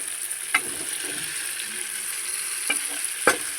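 Cauliflower florets stir-fried with spices in a pan, a steady close sizzle running throughout, broken by a few sharp scraping clicks of a spatula against the metal.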